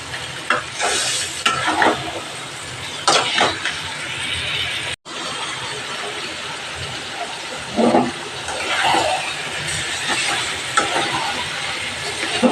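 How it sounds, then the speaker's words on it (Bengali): Chicken being stirred and fried with a spatula in a hot pan, with a steady sizzle and repeated scraping strokes that swell and fade over several seconds, close and fairly loud. "খুন্তিটা গরম হয়ে গেছে। এইবার ভালো করে কষিয়ে নেব।"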